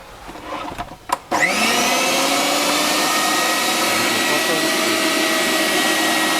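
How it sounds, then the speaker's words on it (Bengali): A Havells blender switched on after a few handling knocks, spinning up into a loud, steady high-pitched motor whine that holds constant, close to the microphone. "অনেক পাওয়ারফুল এবং খুবই কার্যকরী খুবই ভালো একটি ব্লেন্ডার"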